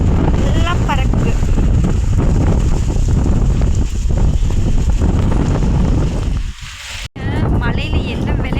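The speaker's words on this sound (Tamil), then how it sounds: "மழை போயிடுச்சுங்க, காற்று தான் அடிக்குது." Strong wind gusting just after a summer rain shower, a loud continuous roar buffeting the microphone throughout with a brief drop near the end.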